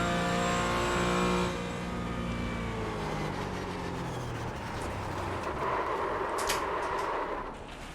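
Porsche 718 Cayman GT4 race car engine in the iRacing sim, loud and close, revving high then dropping through gear changes with a steady harmonic drone and a brief whoosh near the end.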